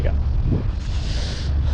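Strong wind buffets the microphone in a loud, rumbling rush that lasts the whole short moment.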